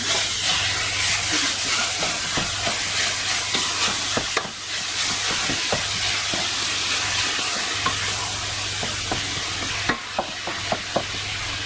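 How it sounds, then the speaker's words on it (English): Meat searing in a pot on a stove over high heat for a homemade Nigerian meat pie filling, a steady close sizzle and hiss with occasional stirring clatters and scrapes, no talk. "I'm going to be putting the meat inside the pot."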